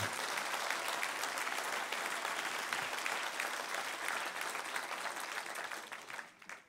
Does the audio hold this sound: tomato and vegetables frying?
no